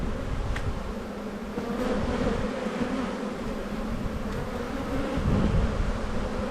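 Dense honeybee buzzing around a busy hive during spring buildup, a continuous close droning hum with bees flying in and out, steady throughout with slight swells in loudness.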